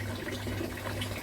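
Water steadily flowing and gurgling through an aquaponics bell siphon standpipe into a grow bed, a continuous, even rush with a low hum underneath and no talking.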